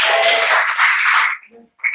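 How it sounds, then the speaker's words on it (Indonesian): Students in a high school classroom clap together during a math quiz game, a dense burst of hand clapping lasting over a second before quickly dying away. "tepuk tangan semuanya"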